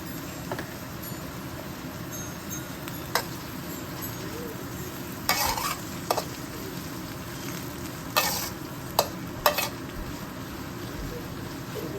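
Onions and spices sautéing for chicken biryani, a continuous close sizzle broken by several sharp clinks and scrapes of a stirring spoon against the pot.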